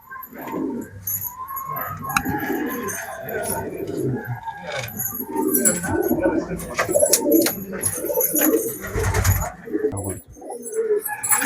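Pigeons coo repeatedly at close range in Nagercoil, soft rolling calls that recur under someone talking, with chirps and light background noise.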